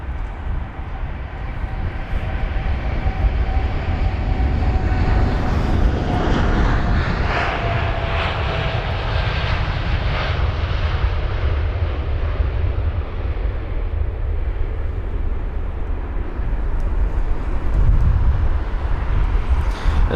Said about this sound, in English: Boeing 787-9 Dreamliner with the reg November 22971 is the departure heading to New York EWR